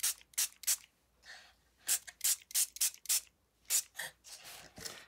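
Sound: spray bottle spritzing water

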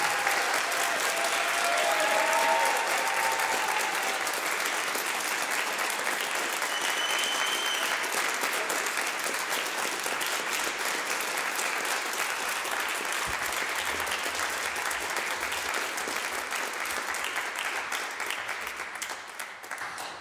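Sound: audience applause for Luc Arbogast

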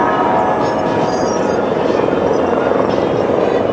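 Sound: helicopter flying over the Las Vegas Strip

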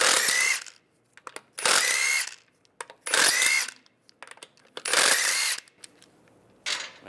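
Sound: power tool removing car wheel lug bolts

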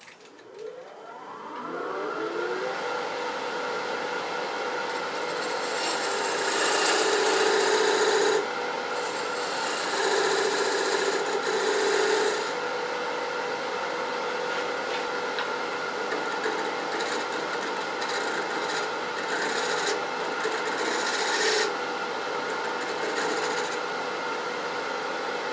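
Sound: scraper tool shaping Australian mallee burl wood

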